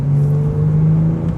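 Porsche 911 GT3 engine heard from inside the cabin, a steady loud low drone holding near constant pitch for a moment with no talking.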